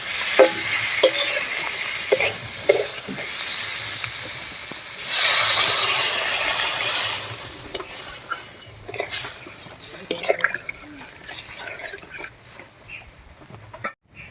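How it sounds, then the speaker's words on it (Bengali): Water is poured into sizzling spices in a pan for a fish curry gravy: stirring and scraping, then a loud rushing burst of hissing steam for a few seconds that settles back into quieter bubbling and clinks. "সবকিছু খুব ভালো করে কষে গেছে এবারে ঝোলের জন্য জল দিয়ে দেবো"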